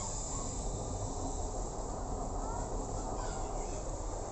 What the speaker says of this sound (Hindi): अभी यहाँ पर रेल लाइन आगे में देखिए बहुत रश है, ट्रेन जा रहा है,